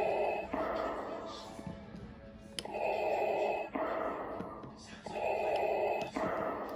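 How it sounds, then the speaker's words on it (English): Rhythmic mechanical breathing effect from a Hasbro 12-inch Darth Vader action figure, with loud hissing inhale and exhale cycles repeating about every 1.3 seconds, played close and alone. "Lots of breathing."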